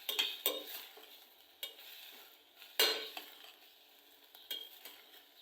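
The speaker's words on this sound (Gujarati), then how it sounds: "સરસ રીતે આપણે તેલમાં સાંતળી નાખીએ" Cluster beans and potatoes sautéing in oil in a pan, heard as a faint sizzle punctuated by sharp scraping stirs and spatula clinks at irregular intervals.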